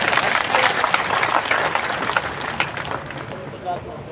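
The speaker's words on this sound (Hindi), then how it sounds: "इसलिए सबके लिए जोरदार ताली बजा दो।" Dense, steady applause from a large crowd at a political nomination rally fills the whole stretch, loud and close, with crowd voices blended into the clapping.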